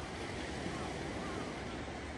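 A ferry passes on the water, heard as a steady, loud wash of wind and water noise with no distinct engine beat, close to the microphone.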